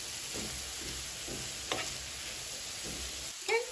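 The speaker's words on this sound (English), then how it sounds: "So let's go ahead and mix it well." Tomato and seasoning sizzle in a frying pan while being mixed, a soft steady frying hiss with rhythmic stirring scrapes and a louder clink near the end, close and alone.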